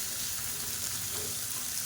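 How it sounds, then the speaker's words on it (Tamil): Small onions and green chillies sautéing in a pan for chutney, a constant close hiss of frying oil with no pauses. "இந்த வெங்காயம் நல்லா வதங்கட்டும்."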